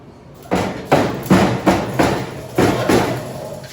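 Hammer blows shaping 18 gauge sheet metal into a car firewall, seven loud ringing metallic strikes at a steady, slightly uneven pace, each one followed by a brief resonant decay.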